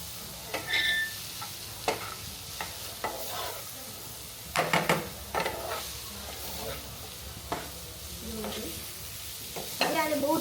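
Taco stuffing with spices and paneer sizzles in a pan while a spoon stirs it, giving sharp scraping taps at irregular intervals over a soft steady frying hiss.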